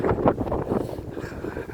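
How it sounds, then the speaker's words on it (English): Wind buffets a microphone outdoors in low, irregular rumbling gusts that fill the whole moment, loud and close with no voices. "The wind is not favorable"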